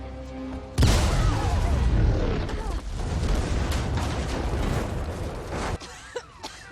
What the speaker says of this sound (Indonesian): ada ledakan bom yang tidak terduga